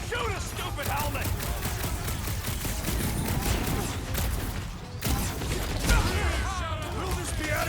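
Gunfire and combat in the Guardians of the Galaxy video game, sustained sci-fi weapon shots and blasts mixed with in-game voices, loud and busy throughout with a sharp break near the middle.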